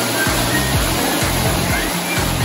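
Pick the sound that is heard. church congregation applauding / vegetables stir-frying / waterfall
waterfall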